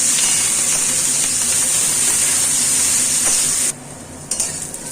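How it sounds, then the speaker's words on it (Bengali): Three medium onions fry in oil for Bengali-style mutton curry, a steady loud sizzle with stirring scrapes throughout, dropping off sharply near the end before a brief clatter. "3টে পেঁয়াজ ভেজে নিচ্ছি।"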